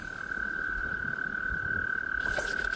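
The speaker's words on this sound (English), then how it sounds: "Now I've happened upon a toad breeding ground." Toads trilling at a breeding pond among their eggs, a single steady high-pitched trill running unbroken at moderate distance over faint outdoor background noise, with no speech.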